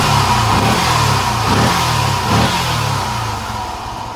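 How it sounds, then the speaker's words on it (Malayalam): Yamaha FZ V1 motorcycle engine, just serviced, revving loudly and steadily with a mid-pitched growl that rises and falls in repeated pulses, then eases slightly toward the end, with no voices present. "ഞാനിപ്പോൾ ഇനി ബൈക്ക് സ്റ്റാർട്ട് ചെയ്ത് കാണിച്ചു തരാം"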